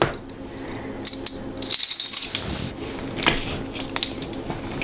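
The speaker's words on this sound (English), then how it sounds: "I am going to get my measuring spoons." Metal measuring spoons clink and jingle in several quick bright bursts, close and fairly loud, between quieter moments of handling.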